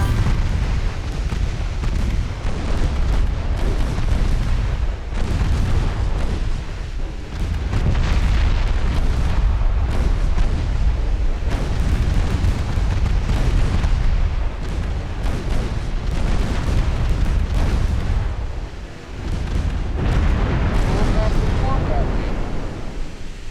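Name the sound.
torpedo hits on warship, from video game Ultimate Admiral Dreadnoughts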